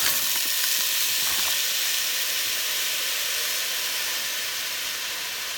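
Shrimp frying in hot oil in a pan, a steady close sizzle and hiss that stays loud throughout, with no talking.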